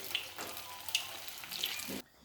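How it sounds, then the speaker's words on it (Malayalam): Bread-crumbed onion egg pieces fry in hot oil, giving a faint steady sizzle with a few soft pops and stirs, then cutting off abruptly. "ഇതേപോലെ ബ്രെഡ് ക്രബ്സിൽ പൊതിഞ്ഞതിന് ശേഷം നമ്മൾ മെല്ലെ എണ്ണയിലേക്ക് ഇടുകയാണ്"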